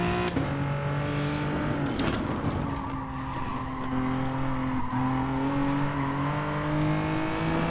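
A GR4 Genesis race car in a sim racing game holds full throttle, its engine a loud steady drone with sustained harmonics, slight tire squeal and a brief shift blip, with no talk over it.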